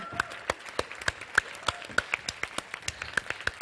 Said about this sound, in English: give applause for these ladies and some men